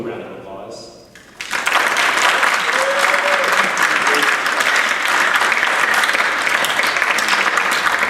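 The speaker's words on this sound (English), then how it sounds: "a round of applause" After a brief quieter moment with a speaking voice, an audience at a winter percussion awards and performance event erupts into sustained, even applause from family and friends, with a few scattered voices inside it.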